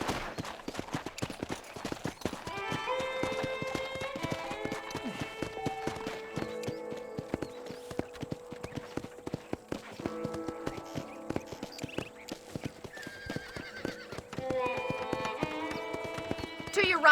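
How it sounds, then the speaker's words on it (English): Horse hooves clip-clopping steadily in Red Dead Redemption, a rhythmic run of hoofbeats across the whole stretch, with a whinny and occasional tonal game sounds layered over it. "let's see if you can still ride a horse."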